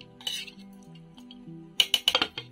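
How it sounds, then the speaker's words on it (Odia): A metal spoon stirs chicken curry in a pot, giving a few sharp clinks and scrapes against the side, clustered near the end over a low background hum, with no speech. "ତାକୁ ହଳା ଟିକେ ଗୋଳେଇ ଦେବା ଏବେ"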